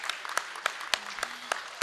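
Audience applause greeting judge Harta Dolmat at a design competition finale: a steady patter of clapping with sharp, loud individual claps standing out, continuous through the short stretch.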